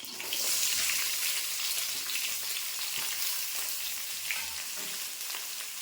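Sliced onion frying in oil with dried red chilies and curry leaves gives a continuous, close hissing sizzle with faint crackles, steady throughout and with no voices.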